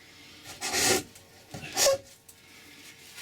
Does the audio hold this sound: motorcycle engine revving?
no